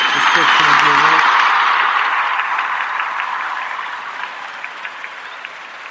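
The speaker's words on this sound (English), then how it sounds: "Let me go ahead and give you a round of applause" Sustained applause from a crowd, loud at first and slowly fading, with a brief voice at the very start.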